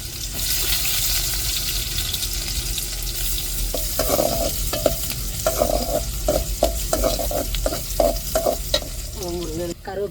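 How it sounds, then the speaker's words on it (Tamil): Mustard seeds fry in hot oil in a home kitchen, making a constant loud sizzle with sharp crackles and pops scattered through it and a brief stirring clatter near the end. "எண்ணெய் சூடேறிட்டு கடுகு சேர்த்துக்கிறோங்க."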